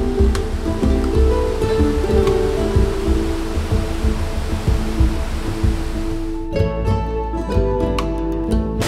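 A waterfall beside the Torrent Walk campsite in Wales pours with a steady, dense rushing roar that stays loud and unbroken throughout, with no voices.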